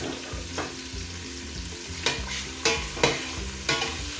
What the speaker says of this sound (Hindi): यहाँ पर हम प्याज शामिल कर देंगे जो मैंने स्लाइस में काट कर रखे हुए हैं बारीक, और प्याज को हम ब्राउन कर लेंगे।